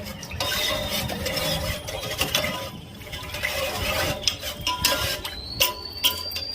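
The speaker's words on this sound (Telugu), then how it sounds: "మొత్తం పేస్ట్స్ అన్ని బాగా మిక్స్ అయ్యేలా ఒకసారి కలిపేసి" A spoon stirs spice pastes around in a pan while making coconut rice, giving irregular scraping and clinking against the metal with soft background sizzling, moderately quiet and without talk.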